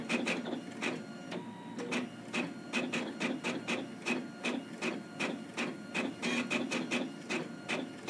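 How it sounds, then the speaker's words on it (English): Printers in The Roy Game, a zombie tower defense game, chatter away with a fast run of sharp mechanical clicks and rasps, repeated steadily and close up. "printers have just started printing"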